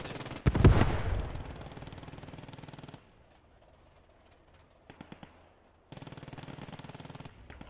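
Bursts of automatic weapon fire rattle out during a British defense at Etreham in the game Post Scriptum. A loud close volley opens, then sustained rapid fire follows, with quieter distant shots in the middle and another long burst at the end.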